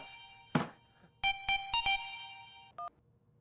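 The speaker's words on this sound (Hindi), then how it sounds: "फोन आ रहा हुआ है" An electronic phone ringtone chimes in short repeated bursts after a single thump, with a brief higher tone closing the sequence.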